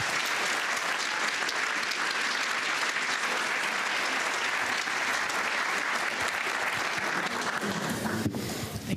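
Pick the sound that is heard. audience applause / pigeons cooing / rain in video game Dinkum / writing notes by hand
audience applause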